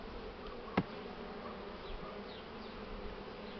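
Honey bees hum steadily around an open hive while a swarmed colony is divided, a soft continuous drone with one brief sharp click near the start.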